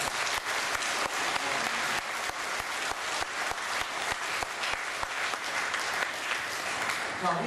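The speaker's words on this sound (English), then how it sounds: "let's give them a round of applause" Audience applause for event co-sponsors at the launch of the Penang Science Cafe, a dense, steady crowd clapping throughout at moderate level, with no voices over it.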